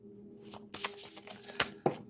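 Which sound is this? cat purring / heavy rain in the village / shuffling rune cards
shuffling rune cards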